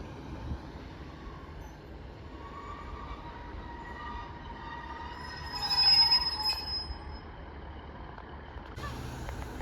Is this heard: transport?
yes